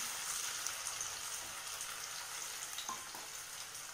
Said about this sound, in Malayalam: ഈ നെയ്യിലും വെളിച്ചെണ്ണയിലും കൂടെ നമ്മൾ ഏത്തപ്പഴം ചെറുതായി നുറുക്കിയിട്ട് ചെറുതായിട്ടൊന്ന് വെന്തു വരികയും ചെയ്യണം